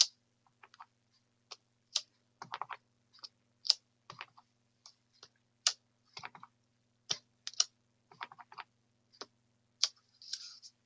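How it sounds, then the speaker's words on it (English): Rubber stamps pressed repeatedly and at random onto a sheet of paper while stamping with Bermuda Bay ink, giving a string of sharp, close tapping clicks at an irregular rhythm, with no talking. "just stamping and randomly stamping these images"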